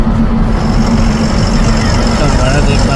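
New Ashok Leyland trucks idle and rumble nearby on a hot day, a loud, steady low engine drone with a constant hum that never drops out.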